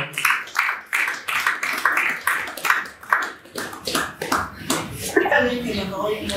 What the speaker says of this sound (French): On applaudit très très très fort.